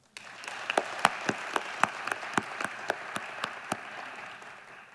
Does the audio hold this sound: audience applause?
yes